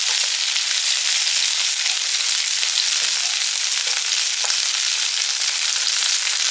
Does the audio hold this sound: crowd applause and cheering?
no